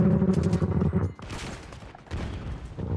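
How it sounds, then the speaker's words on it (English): Rapid burst of gunfire from a shotgun in Call of Duty Black Ops 6, loud and close, followed by more scattered shots and game noise. "Getting hard to hit him with this damn shotgun, man."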